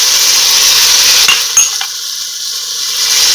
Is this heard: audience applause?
no